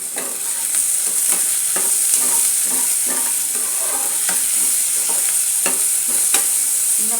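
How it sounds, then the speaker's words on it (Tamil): Onions sauté in a pan for a potato and pea masala, a steady close sizzle broken by regular scraping stirs of the spatula, with no talking. "இன்னும் கொஞ்சம் வெங்காயம் வதங்கட்டும்."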